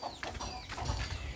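A rooster being chased clucks in agitated, rapid bursts, close and fairly loud, with no voices over it.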